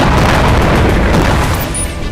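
Bombing of Hezbollah-linked buildings and rocket launch sites in Lebanon produces a loud, close, rumbling blast that fills the whole short span with low booming roar and debris noise, no voices.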